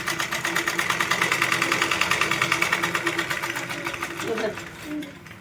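A sewing machine stitches cloth along a marked line, its needle running in a fast, steady mechanical rhythm close up, then slowing and stopping near the end while a voice talks faintly underneath.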